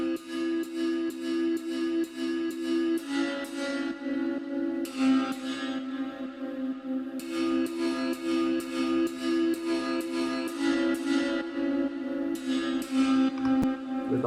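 Santur plugin in a trance track transition, plucked hammered-string notes ringing in quick repeated runs over a steady sustained synth bed, with shimmering bursts of bright strikes recurring throughout; no voices.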